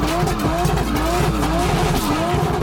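A drift car spins donuts, its tires squealing in a continuous looping whine that rises and falls rhythmically over a loud, steady engine roar; voices murmur underneath.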